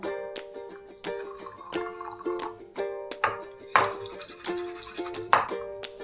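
Water is poured onto black mustard seeds and two green chillies, giving close trickling and dripping with light rattles over a steady musical backing, without talk.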